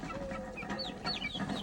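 A rooster clucks in short, scattered calls over a steady hum of background noise, with a few sharp higher chirps from nearby birds.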